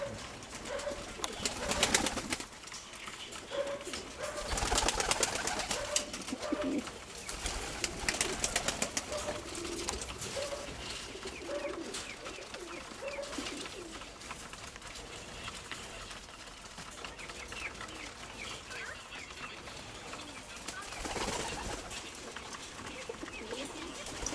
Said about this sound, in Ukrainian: Ось голубок.